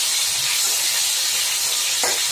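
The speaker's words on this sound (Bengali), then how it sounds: "এবার এই ভেটকি মাছগুলো গরম তেলের মধ্যে ছেড়ে দিলাম" Bhetki fish pieces sizzle in hot oil, a loud, steady hiss of frying close by, with a slight crackling burst near the end.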